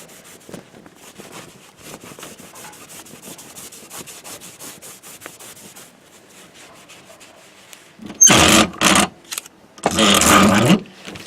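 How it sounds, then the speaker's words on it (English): A microfiber cloth buffs a persimmon golf club head, first a soft steady rubbing for several seconds, then two loud close bursts of vigorous brisk friction near the end. "I just happen to have a microfiber cloth, and we're just going to buff it like we're shining our shoes."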